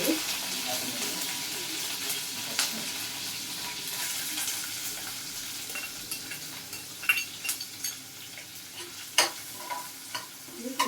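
An onion fries in a pan for an Uttar Karnataka style green chilli palya, a soft continuous sizzle broken by scattered stirring scrapes and light clicks, with no voices.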